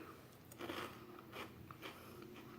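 Crunching bites into a light, savory Japanese snack mix of rice crackers, pretzel pieces and corn puffs, three or four crisp crackly bites spaced out, close and fairly quiet.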